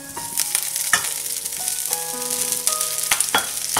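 Broccoli and garlic sizzle steadily in a stir fry pan, with a constant crackling hiss, occasional sharper pops and some tonal background hum, and no voices.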